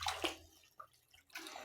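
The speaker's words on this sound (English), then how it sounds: "just rinse it off with some clean water." Clean water rinsing something off during a kitchen deep clean, a few short gushes and splashes separated by quiet gaps, faint and close.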